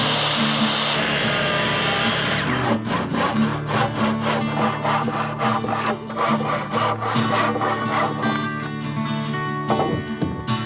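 Handsaw cutting a wooden rafter for an off-grid cabin in the woods, steady rhythmic back-and-forth strokes, close and loud, continuing throughout with no talk.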